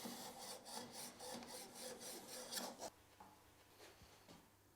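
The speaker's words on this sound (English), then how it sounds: "remove the burr by rubbing it along a flat bench stone like that" A steel chisel blade rubbed back and forth on a flat bench stone to remove the burr: faint, rhythmic scraping strokes about twice per second for three seconds, then quieter, sparser rubbing, close and alone.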